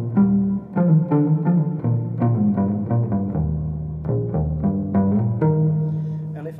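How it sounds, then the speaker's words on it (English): Electric guitar run through a reverb pedal, playing a jazz-style line of notes and chords whose tails blur and ring together; close and steady, with no voices. "And with reverb it sounds something like this."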